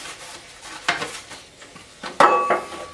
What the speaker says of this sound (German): Trotzdem werde ich sie nochmal mit Butter ausstreichen